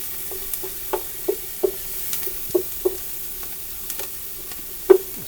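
Onions sauté in a preheated pan, with a soft continuous sizzle under repeated light taps and scrapes of a utensil stirring at a loose, irregular rhythm, close by with no voices.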